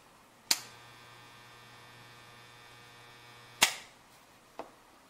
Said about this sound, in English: you're going to hear the transformer humming